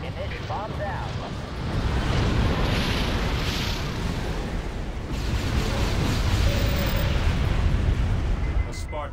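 A bomb explosion in Halo Wars is heard as a heavy, rumbling blast that roars steadily for several seconds amid dense battle noise.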